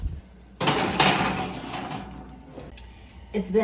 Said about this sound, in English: So let's add our delicious cake to the oven.